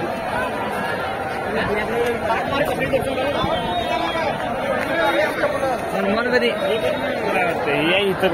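Crowd chatter fills the area near Hanumangarhi temple in Ayodhya, a dense, steady babble of many voices nearby with footsteps and movement mixed in.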